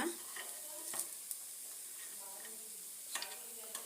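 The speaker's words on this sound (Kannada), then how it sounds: "ಸ್ವಲ್ಪ ಫ್ರೈ ಆದರೆ ಸಾಕು. ಒಂದು ಕಡೆ ಆಗಿದೆ ಫ್ರೈ." Paddu batter fries quietly in a covered pan over a low flame, giving a faint, soft sizzle broken by a few light clicks of the lid or utensil; no voices are heard.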